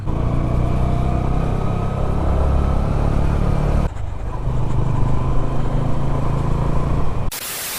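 A motorbike rides slowly along a foggy road with an engine drone that holds steady and loud, shifting slightly midway as traffic rumbles past and nobody speaks.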